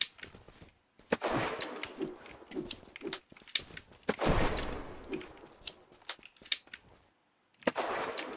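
Bursts of gunfire in the survival game Unturned, sharp shots in irregular clusters with gaps between them, fairly quiet overall.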